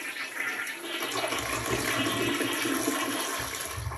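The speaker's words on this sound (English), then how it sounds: "And now we're going to go ahead and flush the toilet." A household toilet flushes nearby, a loud continuous rush and gurgle of water swirling down the bowl, holding steady for several seconds with no talking.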